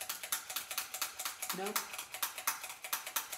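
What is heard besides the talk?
stapler being pressed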